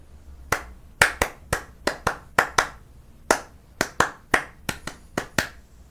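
Hands clap out a syncopated rhythm, about twenty crisp, close claps in quick groups with short pauses between them, alone with no voices.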